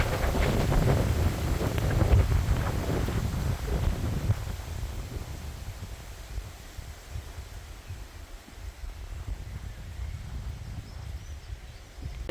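Strong wind buffets the microphone outdoors on a sunny day among potted cactus plants, a steady low roar with heavier gusts in the first few seconds before easing to a constant rush.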